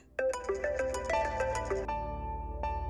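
Phone ringtone playing for an incoming call, a bright, quick melodic jingle of chiming notes that starts abruptly and repeats, clear and close with a soft low hum beneath.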